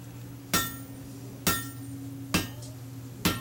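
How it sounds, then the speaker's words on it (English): A heavy forging hammer of eight pounds or more strikes hot steel on an anvil while drawing out a fireplace tool handle, four loud ringing blows spaced about a second apart over a low steady hum. "I started with a really light hammer, then I went to this hammer, which is much heavier."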